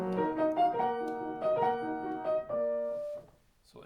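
Excerpt of the second theme from a Beethoven first movement, a soft instrumental passage of sustained tonal notes and chords moving in a gentle phrase before fading away, with no talking.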